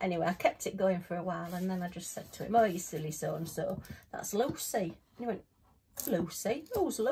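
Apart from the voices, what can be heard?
No distinct noise like a dog, phone or traffic.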